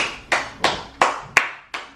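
Five sharp hand claps ring out at an even, slow pace, close and crisp, each one decaying quickly.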